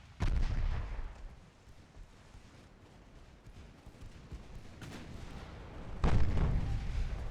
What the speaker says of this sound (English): Now I want all combined firepower upon this battleship.